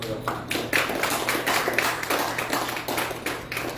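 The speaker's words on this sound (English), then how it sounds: "And we applaud you greatly for your time" Applause from an audience at a national award ceremony in Guyana, a steady crowd of clapping hands filling the room at an even, moderate level throughout.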